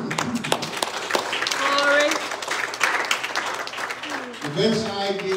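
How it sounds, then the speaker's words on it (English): A church congregation claps along during a service, steady, dense clapping mixed with music and singing voices throughout, swelling toward the end. "Will you clap in?"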